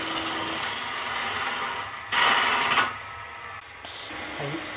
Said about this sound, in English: I actually use a 1/2-inch bowl gouge to establish the inner part of the bowl.